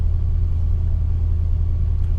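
A Mercury Cougar idles steadily as it warms up before a drive, giving a continuous low engine rumble with an even, unchanging throb throughout and no voices.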